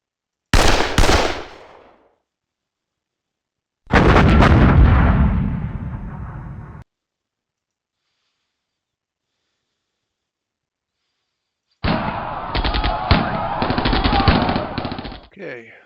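Game gunfire and explosions during a close assault by a Mark IV tank and infantry in the wargame Panzer Campaigns Budapest 45, three loud separate bursts of rapid firing split by silence.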